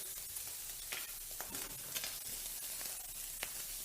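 Garlic frying in oil in a pan, a soft continuous sizzle with occasional scraping stirs and small ticks, close but quiet.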